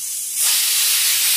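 Pressure cooker on a gas stove cooking bottle gourd dal, suddenly bursting into a loud, steady hissing steam release after a quieter moment, with no talking.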